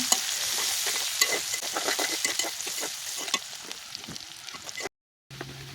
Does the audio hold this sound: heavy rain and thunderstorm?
no